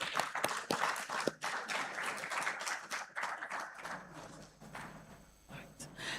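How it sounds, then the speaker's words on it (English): Audience applause at the African Summit 2025, sustained dense clapping from a large seated crowd filling the room, steady and moderately loud with scattered sharper claps throughout. "a very special thank you and a big round of applause to the man whose brainchild this is, Honorable Alan Chamating"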